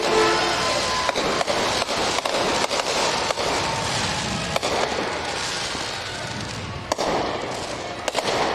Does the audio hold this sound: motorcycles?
no